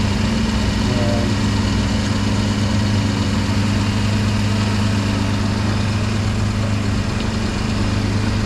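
A car engine idles steadily and close by on a drive through Pangasinan, giving a constant low hum with a faint vibration that holds unchanged the whole time and has no voices over it.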